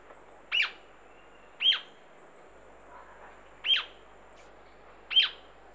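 A small colorful jacamar calls in the Amazon rainforest: four sharp, high chirps spaced about a second or more apart, each short and distinct, over a faint steady forest hiss.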